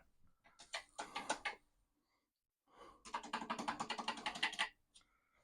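Typing on a Commodore PET computer keyboard comes in two close bursts of rapid, clattering keystrokes separated by a short pause, the second burst longer and denser, with no voices.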